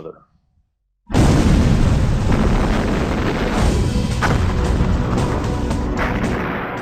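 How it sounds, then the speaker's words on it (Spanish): Explosion welding detonation joining two metal pieces: after a moment of silence, a sudden loud blast erupts into a broad, roaring rumble that sustains for several seconds and slowly tapers. "Así comienza la explosión, que atraviesa toda la superficie uniendo las dos piezas."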